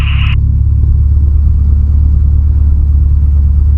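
A light aircraft engine idles at 1,000 RPM, a steady low drone throughout, close and even, with a brief higher tone at the very start.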